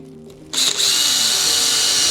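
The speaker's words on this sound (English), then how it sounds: "I can now drill it right through." Close and loud, a power drill spins up and whines steadily as it bores through the plastic body of an MJX Hyper Go 10208 v2 RC car, after a brief quiet start.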